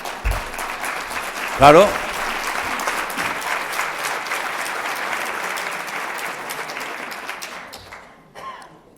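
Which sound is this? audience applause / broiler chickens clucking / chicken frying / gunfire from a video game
audience applause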